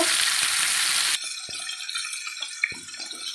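Masala-coated fish frying in hot oil in a pan as it is turned over: a loud, dense sizzle that drops to a softer crackle, with a few sharp clicks from the spatula, close by and without talk.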